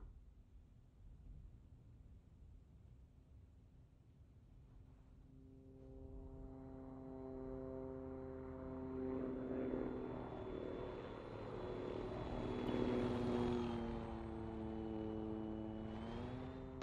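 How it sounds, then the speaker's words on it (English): A helicopter in the video game ARMA 3 approaches from faint distance, its rotor and turbine drone swelling steadily louder and holding near, with a slight pitch shift at the end, and no speech. "Helicopter."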